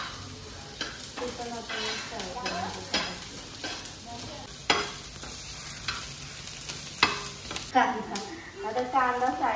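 Ginger and green chili frying in a little oil in a pan, a continuous sizzle broken by repeated stirring scrapes, with brief voice-like sounds in the background.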